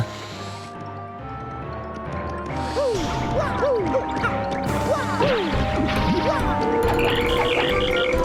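Hammer strikes in Paper Mario: The Thousand-Year Door making a frog-croak effect, several springy croaking boings over game music and ambience, loud and up close.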